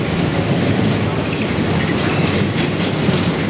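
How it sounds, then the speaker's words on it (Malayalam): A train pulls away from a station, its steady rolling rumble and wheel clatter filling the space loud and close, with faint high squeals near the end. "ട്രെയിൻ നീങ്ങിപ്പോകുന്നു."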